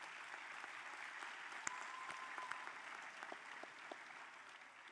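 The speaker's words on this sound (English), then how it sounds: "Let's give a massive round of applause to your families, your friends, and your fiercest supporters" A graduation ceremony crowd gives a round of applause for families and supporters: a steady wash of many hands clapping, faint and distant, with a few sharper claps standing out.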